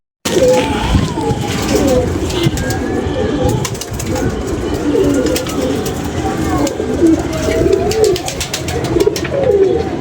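A large flock of around thirty-five pigeons cooing loudly and continuously at close range, with voices talking over the dense bird chorus.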